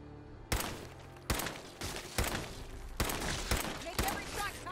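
Gunfire in a video game, five heavy shots spaced about a second apart, each a loud sharp blast with a short echoing tail, with faint voices in the background.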